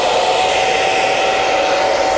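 An electric hair dryer running at full power indoors, a loud, constant airy whoosh with a steady motor whine and no change in pitch or pauses.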